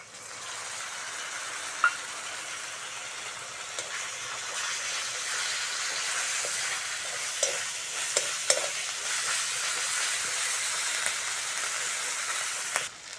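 Ginger garlic paste fries in hot oil in a pan for an egg curry, a continuous close sizzle with scraping stirring strokes and a few sharp pops and spatters.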